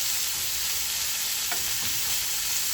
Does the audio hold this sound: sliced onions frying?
yes